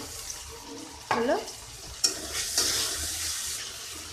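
Ginger-garlic paste and water hit a hot pan of chicken curry, giving a sharp burst of sizzling and bubbling followed by a second splashy surge, then a steady frying hiss up close.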